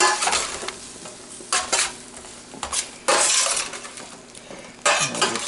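Roasted root vegetables stirred on a baking sheet, close scraping and clattering in repeated bursts with a light sizzle underneath and no talking.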